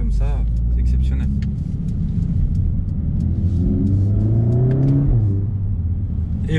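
A 2020 Mercedes-AMG A45 S pulls hard and revs, its mid-pitched engine rising through rising tones before easing off, loud and close; a voice talks over parts of it.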